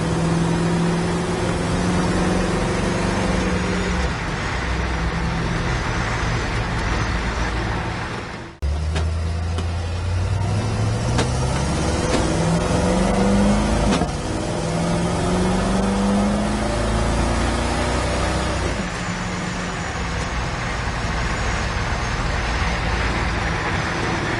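A 1956 Ford F-100 pickup engine runs steadily throughout, its pitch rising and falling as it revs and shifts, with a brief dip partway through.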